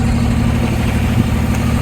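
A boat's inboard engine idles steadily at moderate, gentle revs on a cruise from Mackay Marina toward Prudhoe Island, Queensland, giving a constant low throbbing drone with no speech.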